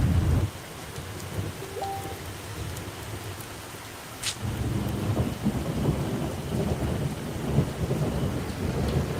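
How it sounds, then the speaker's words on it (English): A Michigan thunderstorm brings steady rain pattering on surfaces while a deep rumble of thunder rolls in and swells, with a sharp crack partway through; the downpour stays loud and continuous. "Love the sound of the thunder."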